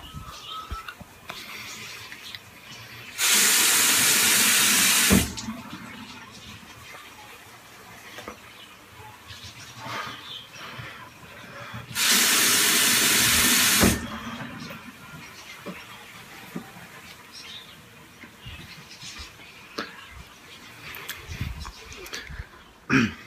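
Cold water gushes loudly from a tap in two separate bursts of a couple of seconds each, with quieter handling noises and shuffling between them.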